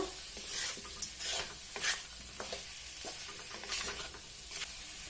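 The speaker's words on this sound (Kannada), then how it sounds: "ಗ್ಯಾಸು ಸಿಮ್ಮಲ್ಲಿ ಇಟ್ಕೊಂಡು ಈ ತರ ಫ್ರೈ ಮಾಡ್ತಾ ಇರಬೇಕು" Potatoes and fenugreek leaves frying in a pan on a low flame, with a soft steady sizzle broken by repeated scraping stirs of a spoon against the pan, close and fairly quiet.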